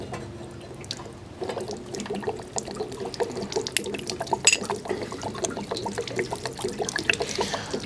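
Water drains out of an RV water heater tank with a sediment-laden bottom, a steady close trickle and splash with small irregular drips running throughout, no voices.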